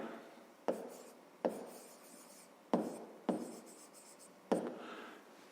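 A pen or pencil writes on paper during a fifth-grade math lesson, giving five distinct strokes, each a sharp tap that trails into a short scratchy rasp, close and quiet, with no talking.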